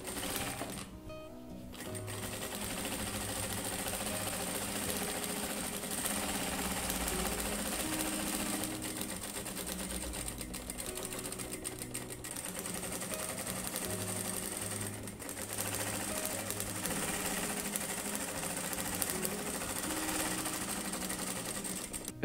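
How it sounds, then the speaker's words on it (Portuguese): A sewing machine quilts fabric at stitch length 3, running in a fast, steady whirring chatter with brief pauses and restarts, close by and without talk. "vou iniciar aqui o processo de costura"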